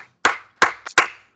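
Congregation in a church service clapping hands, four sharp, loud claps in a steady rhythm with a small extra clap between, close and clear with no talk.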